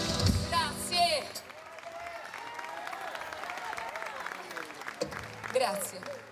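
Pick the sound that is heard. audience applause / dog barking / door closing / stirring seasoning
audience applause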